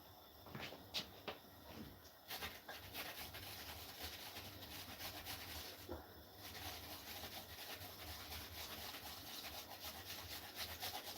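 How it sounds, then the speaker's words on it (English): Fresh ginger is grated by hand into a simmering pot of sumac lemonade, giving a faint, continuous scraping rasp in repeated strokes for several seconds with no speech. "So I'm basically grating some ginger into it now."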